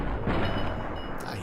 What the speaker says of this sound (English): Trying to save some ammo and do some VATS shooting.